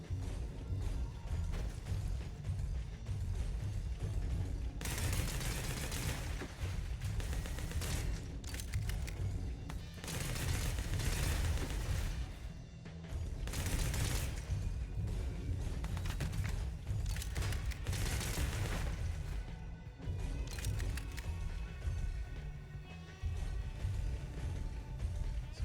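Enemy gunfire in the video game Bounty Star, bursts of rapid shots and impacts coming in clusters with brief pauses between, moderately loud over a low ambient game rumble.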